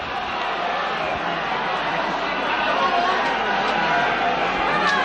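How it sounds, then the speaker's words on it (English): Football-ground crowd at a 1988-89 rugby league match between Featherstone Rovers and Hull at Post Office Road, a steady broad roar of cheering and chatter from many spectators, continuous and fairly loud throughout. "this whole crowd getting right behind their team"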